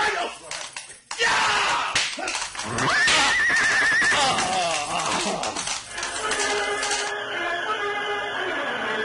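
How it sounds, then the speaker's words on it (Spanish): Radio drama effects of horses being whipped: sharp slaps and cracks at close range, then a loud, drawn-out whinny rising and falling, followed by more neighing and thumping under music and background voices. "¡Azótale a los caballos!"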